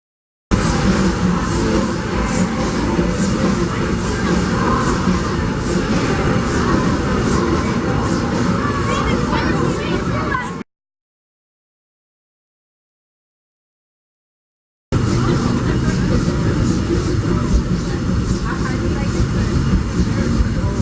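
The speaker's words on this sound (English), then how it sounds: "welcome aboard the Disneyland Railroad" A Disneyland Railroad train rolls along behind Ward Kimball locomotive #5, a steady rumbling ride with clatter and possible voices mixed in, broken midway by a stretch of silence.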